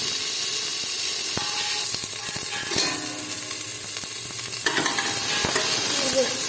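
Cumin seeds, a pinch of salt and turmeric sizzle in a little hot oil in a pan. Sharp crackles and spoon clicks sit over a continuous close frying hiss.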